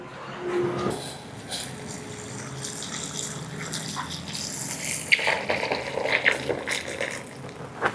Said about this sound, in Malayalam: ഇനി ഇതിലേക്ക് നമുക്ക് നല്ല ചൂട് വെള്ളം ഒഴിച്ചു കൊടുക്കാം.